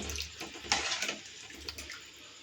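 Water splashes and pours in short bursts into a cooking pot for rasam, with a hollow trickling sound and a low hum underneath.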